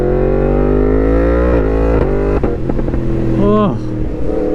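A motorcycle engine drones steadily, then its pitch swoops upward in quick blips as the rider makes clutchless downshifts, with some mechanical clatter, loud and close.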